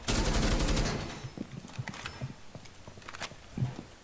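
A rapid burst of automatic gunfire in the video game Rainbow Six Siege, followed by scattered single shots and impacts that fade and trail off.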